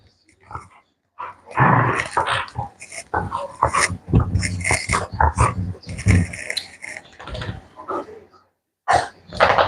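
Several dogs bark and growl in loud, close, irregular bursts with brief whimpering, mixed with a person's voice talking over them, then a short silence before barking resumes.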